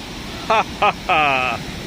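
The Kothali (Pawai) waterfall in Surguja sends up a steady broadband rush of falling water, heard nearby and constant beneath a few short spoken exclamations.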